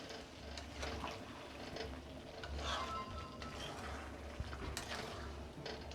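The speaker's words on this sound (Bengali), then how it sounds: "বারবার ধরে নাড়তে হবে কিন্তু, নাহলে মশলাটা তলায় লেগে যাচ্ছে" Spiced potato curry (aloo dum) being stirred in a pot, with a steady low simmering bubble and faint scraping, sizzling spoon sounds throughout, no talking.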